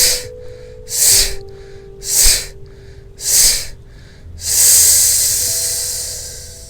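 Forceful exhaled breaths during a yoga exercise, four strong puffs at a steady rhythm followed by a longer, sustained breathy hiss, close and alone without talk.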